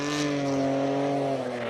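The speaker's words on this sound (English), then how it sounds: "Nissan Skyline GTR R33 6-cylinder all-wheel drive turbo" Nissan Skyline GTR R33 six-cylinder all-wheel-drive turbo race car at a classic car sprint event, its engine droning loud and steady with rising harmonic tones as it runs at speed close by.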